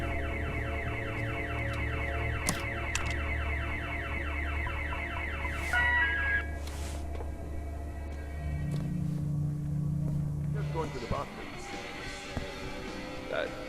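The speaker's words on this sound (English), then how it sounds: "Who set this alarm off?" A security alarm blares in the video game The Occupation, a loud repeating electronic warbling tone that sounds steadily for about six seconds, then gives way to a lower sustained buzz and clatter.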